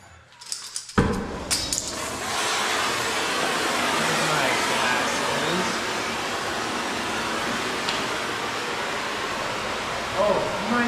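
Compressed air blasts debris away in a workshop during steering fabrication on a COE ramp truck. A sharp onset leads into a loud, steady rushing hiss that holds for about ten seconds.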